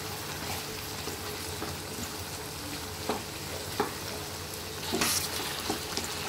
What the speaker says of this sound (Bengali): মাংসগুলো ভাজতে ভাজতে এটাকেও আমি সাইডে ভেজে নেব